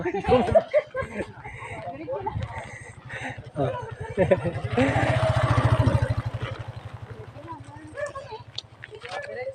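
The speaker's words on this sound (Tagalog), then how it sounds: "Nakakarinig na ako ng motor." A motorcycle passes along a seaside road, its engine hum swelling to a peak midway and then fading, under steady nearby conversation and some laughter.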